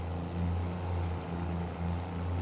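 A heavy truck engine brake drones steadily in Farming Simulator 22, a loud, continuous low rumble with a faint whine above it, sustained without break.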